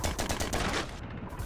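Small enemy guns in a roguelite video game fire rapid, rhythmic bursts, close and sharp, then trail off into a rougher clatter.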